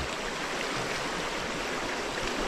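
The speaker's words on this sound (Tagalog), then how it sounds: "Naggisa na kami ng mantika." Hot cooking oil sizzling in a pan for sautéing, a steady, dense hiss that holds at an even loudness from start to end with no voices.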